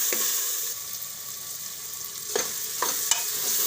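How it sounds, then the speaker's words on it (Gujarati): Cracked wheat sautéing in ghee for vegetable khichdi, giving a soft steady sizzle with a few sharp stirring scrapes near the end, close and moderately loud. "તો ઘડીક વાર આપણે આને ઘીમાં સડવા દેવું"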